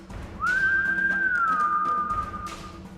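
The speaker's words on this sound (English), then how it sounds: "and I give a whistle" A single drawn-out whistle, rising quickly then holding a steady pitch before sliding slightly down and fading, played close over a quiet room tone with no talking.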